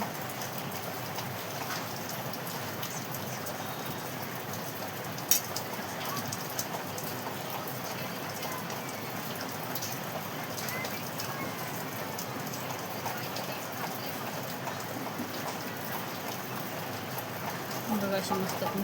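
Heavy rain pours steadily onto surfaces in a dense, constant patter, loud and close, as a voice talks over it.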